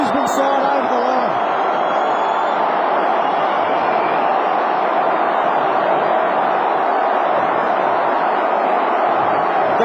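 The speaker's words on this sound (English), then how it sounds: "The crowd are just getting behind this game so much, trying to will the Brisbane side over the line." A big stadium crowd at the Gabba in Brisbane roars steadily through a tense AFL finish between the Brisbane Lions and Port Adelaide, a dense constant wall of cheering with a commentator talking over it.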